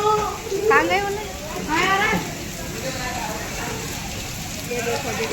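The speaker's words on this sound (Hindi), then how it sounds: "देखो जी हमारे यहाँ पर कैसे बारिश पड़ रही है, छमाछम ओले पड़ रहे हैं।" Heavy rain with hail pelting down outdoors, a steady dense patter throughout, with a voice talking over the first two seconds.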